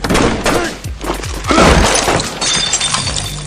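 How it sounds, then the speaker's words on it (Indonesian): Film gunfight, with a rapid burst of loud gunshots, thuds and shattering glass in quick succession, followed by a dense crashing impact, all close and loud. "terjadi lagi adu tembak."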